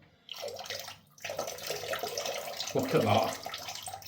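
Tap water runs in a steady, hissing stream while shaving lather is prepared with a razor and soap, fairly quiet and continuous with a brief pause near the start. A short spoken remark sits over it.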